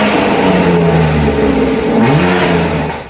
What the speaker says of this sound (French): démarrera le moteur pour profiter du nouveau son